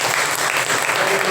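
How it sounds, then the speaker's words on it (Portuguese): A church congregation breaks into loud, dense clapping during a worship service, a brief close burst of many hands with some voices mixed in. "Vamos dar uma salva de palmas para Deus."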